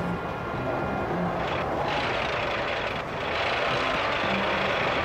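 An amusement park ride in the simulation game Mega Park runs on a desert camel-themed level, giving a steady, dense mechanical rumble and whirring drone that holds throughout with a slight swell toward the end.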